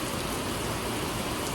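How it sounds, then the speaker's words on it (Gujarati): Heavy rain pours down on a flooded highway, a dense, steady hiss that stays constant and close throughout. "ફૂલ વરસાદ આવે છે"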